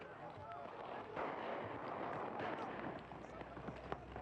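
Police fire volleys of tear gas at student protesters during running street battles, with scattered pops and bangs over a dense crowd roar and shouting, the noise distant and somewhat muffled.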